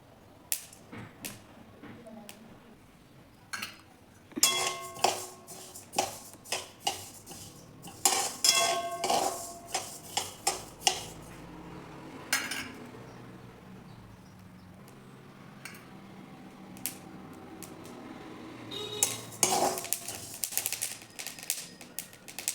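Flaxseeds roasting in a heavy kadhai over low gas, stirred with a metal spoon that scrapes and clinks in irregular bursts, with soft crackling between strokes and quieter pauses.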